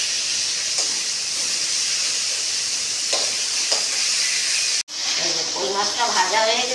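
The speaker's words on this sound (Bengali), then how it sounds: "এইভাবে আস্তে আস্তে নেড়ে চেড়ে মাছগুলোকে আমি ভেজে নিচ্ছি।" Koi fish frying in a pan while being stirred slowly, giving a steady sizzling hiss throughout with soft scraping touches, near and fairly loud, briefly cut off once before the sizzle resumes.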